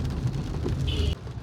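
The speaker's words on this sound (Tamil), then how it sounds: "வீட்டில் ஆரம்பித்த மழை இன்ன வரையுமே நிற்கலை." Heavy, steady rain pours outdoors near a temple by a bus stop in Kundrathur, a dense continuous hiss with low rumble throughout, briefly joined by a higher tone before easing slightly at the end.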